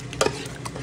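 A spoon stirring coconut milk in a pan for latik: a brief, close scrape of stirring over a soft, steady simmering sizzle.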